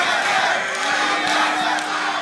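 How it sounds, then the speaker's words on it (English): An esports crowd at the 2014 NA LCS playoff finals between TSM and Cloud9 cheers and shouts in a loud, continuous roar filling a large arena. "The crowd, obviously very much in TSM's favor"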